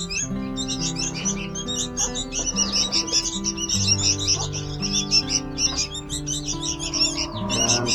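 Baby birds chirp busily in high, rapid tweets throughout while being hand-fed crickets, with a steady low musical tone running underneath.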